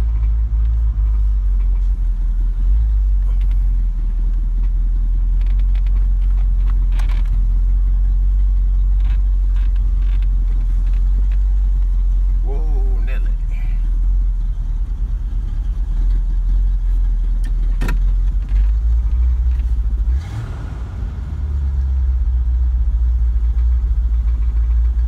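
A 1973 Ford Gran Torino station wagon engine runs and drives with a loud, deep, steady rumble close by, a brief rise as it revs near the end, and no talking.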